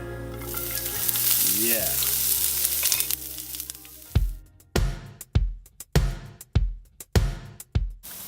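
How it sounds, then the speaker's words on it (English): Steady sizzling of chopped onion and peppers in a hot frying pan, then a run of sharp, regular thuds like a knife or spatula striking, with a brief spoken word. "Chopped onion and peppers are landing on the frying pan."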